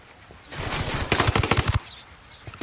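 Automatic gunfire from the video game Ghost Recon Wildlands, a loud rapid burst of close shots rattling in quick succession, then tailing off into a few scattered distant cracks.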